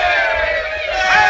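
A film-era crowd cheers and yells together in a loud, dense roar of massed voices, sustained and close throughout the brief moment.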